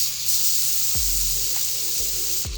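Steel knife blank for a balisong-style scissors project ground on a machine, giving a continuous loud hiss with a few short falling whines as contact changes.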